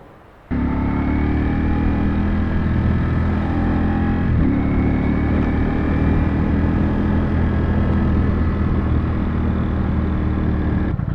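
A Ducati V4 motorcycle engine kicks in after a brief quiet start and holds a loud, steady, close rumble with a constant tone throughout, never clearly fading away, and no voices.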